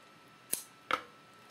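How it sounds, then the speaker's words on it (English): Two quick, crisp snips a fraction of a second apart, close and clear against near silence, like scissors cutting through paper. "let me just go ahead and grab my scissors"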